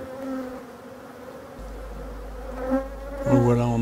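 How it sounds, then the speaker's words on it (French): Agitated honeybees buzzing during a honey harvest in Brittany: a close, steady drone of many wings that swells and grows more intense, with individual bees passing near toward the end. "on entend que les abeilles progressivement s'emballent un peu, s'énervent un peu"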